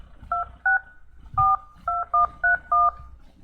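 Touch-tone dialing of a three-digit office phone extension during a county council meeting: a series of short, clear DTMF beeps in an uneven rhythm, about eight tones, over faint room murmur.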